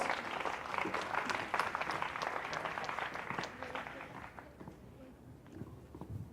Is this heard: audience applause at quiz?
yes